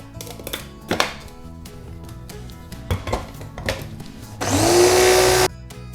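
A food processor grinds pistachios and powdered sugar. A few clinks and knocks against the bowl come first, then a loud, steady motor whir runs for about a second before cutting off.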